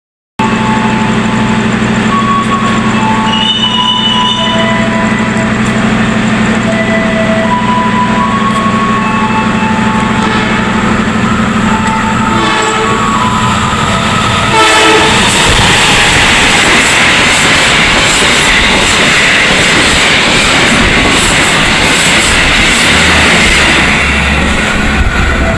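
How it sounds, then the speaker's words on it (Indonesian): An express train runs straight through Haur Geulis station without stopping, building from a steady rumble into a loud, close roar of wheels and wind that fills the second half. "kita akan tunggu kereta api Batavianya melintas langsung di stasiun"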